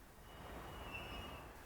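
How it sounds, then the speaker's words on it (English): Tank freight train passing on the Swiss main line between Olten and Oensingen, a quiet distant rumble of rolling wagons with a faint high wheel squeal drifting through the middle, no speech. "Another tank train."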